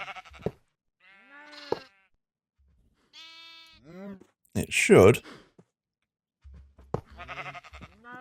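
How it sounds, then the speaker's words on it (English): Sheep in a Minecraft Project Ozone modpack automated farm bleat several times in short, nasal cries spread across the stretch, with someone talking quietly between them. "There it goes. There goes the sheep."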